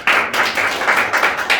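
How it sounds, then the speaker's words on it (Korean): An audience at the opening ceremony of an academic conference claps together. The applause is loud and close, with a fairly steady, pulsing rhythm across the short stretch. "다 같이 박수 한번 보내주시기 바랍니다"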